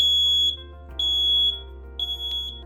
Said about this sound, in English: notice how Paul checks that the smoke detectors are working by simply holding down the little